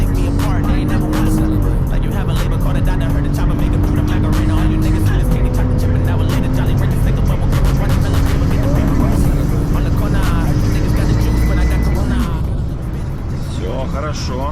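A stage 1 tuned Audi A6 3.0 TFSI on winter tyres accelerates at full throttle, its loud engine note climbing steadily and dropping briefly at each gear change before rising again.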